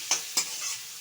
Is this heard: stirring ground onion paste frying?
yes